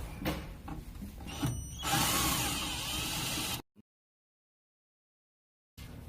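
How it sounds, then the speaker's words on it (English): A small power driver whirs and revs as screws are backed out of a vending machine's infrared sensor, rising into a steady loud buzz before cutting off into silence, then resuming briefly. "And then we take off these two screws."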